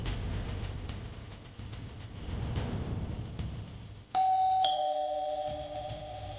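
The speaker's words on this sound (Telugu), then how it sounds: "ఎవరో కాలింగ్ బెల్ కొడుతున్నారా" Electronic doorbell chime at a home, a sharp two-tone ding-dong with ringing tones that sustain and fade, loud and close, following a stretch of dull low background noise.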